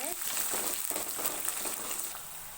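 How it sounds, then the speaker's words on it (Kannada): Chopped onions fry in oil for a tomato gravy, a soft, steady sizzle close by with faint stirring, with no pauses. "ಇವಾಗ ಈರುಳ್ಳಿ ಹಾಕೋತಾ ಇದ್ದೀನಿ ಇವಾಗ ಚೆನ್ನಾಗಿ ಫ್ರೈ ಮಾಡ್ಕೋಬೇಕು ಈರುಳ್ಳಿ ಎಲ್ಲ ಒಗ್ಗರಣೆಯಲ್ಲೇ"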